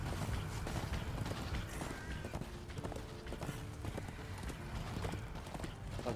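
A horse galloping in the video game Darksiders II, rapid rhythmic clip-clop hoofbeats close and steady throughout, over game sound with faint background noise.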